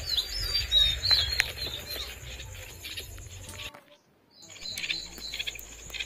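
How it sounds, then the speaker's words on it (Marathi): Bulbul calling near its nest of young chicks outdoors, bright chirps and short tweets repeating over insect trilling and low rumble, with a brief silent gap mid-way before the calls resume. "हा बुलबुल नावाचा पक्षी, त्याचं या ठिकाणी घरटं आहे आणि या ठिकाणी त्याची पिल्लं आहेत."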